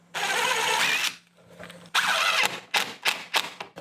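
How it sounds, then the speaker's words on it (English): A power drill countersinks a screw hole in wood: one long, close, loud whir, a short pause, then several quick bursts of drilling. "I'm going to countersink just beside it."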